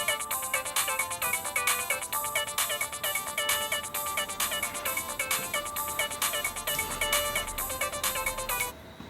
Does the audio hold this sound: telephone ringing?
yes